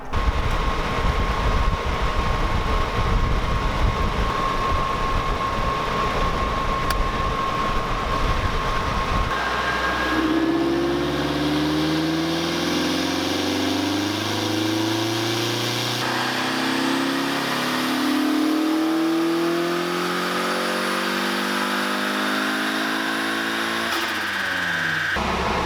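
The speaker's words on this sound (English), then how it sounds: "So as I'm sitting here in the Miata on the dyno," A boosted Mazda Miata engine runs on a dyno with a loud steady drone, then climbs through several rising revs with shifting harmonic sweeps; no one speaks.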